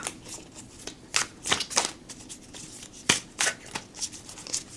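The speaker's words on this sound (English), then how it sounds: "it's a bit on the clumpy side when I do the overhand shuffling" A laminated tarot card deck is shuffled overhand, giving a series of soft papery riffling bursts at an irregular pace, close and fairly quiet, with no talk.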